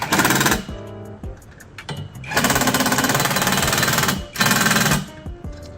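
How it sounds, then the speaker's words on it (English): A power driver tightens bolts on dance game bars, running in loud, close bursts of rattling, buzzing whirr separated by short pauses, with the motor cutting in and out several times. "So, go ahead and tighten down the rest of them."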